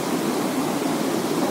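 A small stream on the trail to Proklamator waterfall in West Sumatra flows with a steady, even rush of water, close and unbroken, with no voices.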